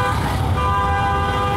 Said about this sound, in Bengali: হর্ন বাজাতেই হয়, কিচ্ছু করার থাকে না।